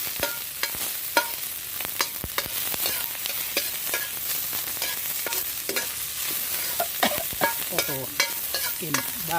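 Oil sizzling in a hot pan as vegetables are stirred and tossed, with repeated scraping and clanking strokes over a steady frying hiss, close and fairly loud, for a home stir-fry of Chinese greens in oyster sauce.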